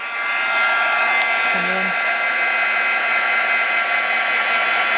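A heat tool blowing hot air over stamped embossing for a card, a loud steady whirring roar running continuously, with a brief spoken word under it.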